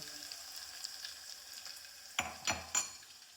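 Garlic tempering in hot oil for a village-style brinjal and val bean sabzi, a steady soft sizzle with a few louder bursts of crackling and stirring clinks near the end.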